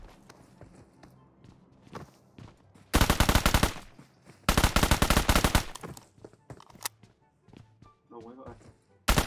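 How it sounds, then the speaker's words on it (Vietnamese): Bursts of automatic gunfire in the PUBG Mobile video game, two loud sustained volleys of rapid shots with quieter in-game footsteps and movement between them and a short final burst at the end. "Nghe tiếng súng rồi."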